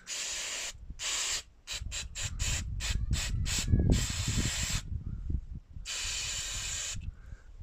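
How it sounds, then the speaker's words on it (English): Brake cleaner sprays onto a Ford Fiesta's oil pan near the drain plug in loud, close hissing bursts, first several short rapid puffs, then longer continuous blasts with brief gaps. "So we're just gonna wash this off with some brake cleaner."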